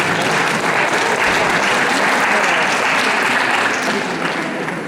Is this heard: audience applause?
yes